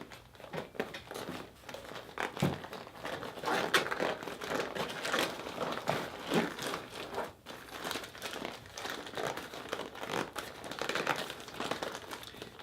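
A Kappler protective glove is crumpled and folded before being inserted into a garment sleeve, producing continuous close crinkling and rustling of stiff material with uneven handling bursts.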